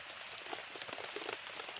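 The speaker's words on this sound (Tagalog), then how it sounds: "yung expectation namin na hindi uulan, naulan" Rain falls steadily as a dense, soft hiss, with scattered drops pattering on a surface throughout.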